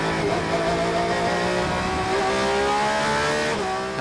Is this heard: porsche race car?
yes